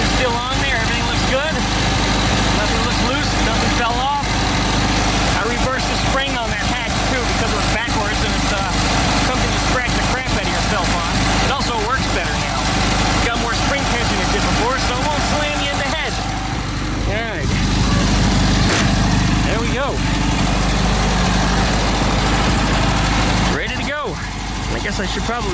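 An air-cooled engine in a 23-window VW bus idles loudly and close, a continuous rough rumble with a slightly fast idle, with occasional clicks and handling noises over it.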